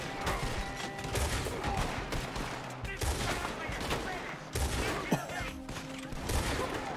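Repeated gunfire from Red Dead Redemption 2, dense bursts of shots and impacts over a busy game soundscape, loud and close, with a talking voice mixed in at times.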